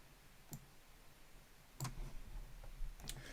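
Mouse clicks while restoring a course on a computer: three faint, sharp clicks sit spaced apart over a low, steady background hiss, with no talk.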